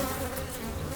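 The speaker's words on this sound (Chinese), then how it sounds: "怎么是蜜蜂啊？" Bees buzzing in a swarm, summoned in a costume-drama scene, a steady close droning hum with no talk.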